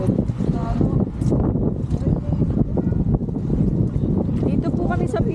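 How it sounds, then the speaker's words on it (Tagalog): Strong, cold wind blowing outdoors in drizzle, a continuous buffeting roar on the microphone with voices talking over it throughout. "Malakas yung hangin."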